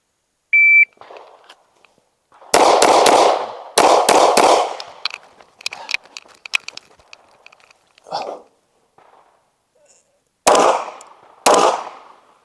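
At an outdoor shooting range, a timer beeps once, then loud, close gunshots ring out in quick clusters and a few spaced single shots. The sharp cracks echo briefly between bursts, and nobody speaks.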